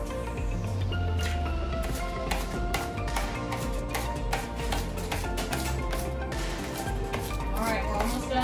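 Knife chopping an onion on a board, a steady fast run of close, crisp taps that continues throughout, with people talking over it.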